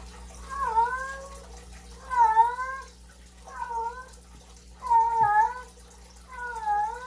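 A female cat meows repeatedly, five drawn-out, wavering cries spaced a second or so apart, close and clear over a steady low indoor hum.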